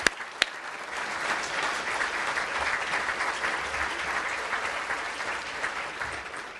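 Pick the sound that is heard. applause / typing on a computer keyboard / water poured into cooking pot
applause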